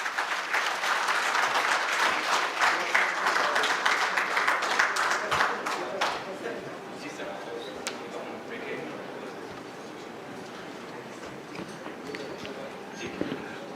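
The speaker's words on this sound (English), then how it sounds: "Can we have a huge round of applause for him?" Audience claps at an award launching ceremony as a speaker comes on stage, strong at first and then thinning out into scattered claps and faint room noise.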